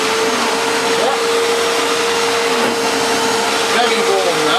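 A Hitachi Powerhouse CV770D retro upright vacuum cleaner runs continuously with a loud, steady motor whine and whooshing airflow, the tone wavering slightly as it is moved, with no voices.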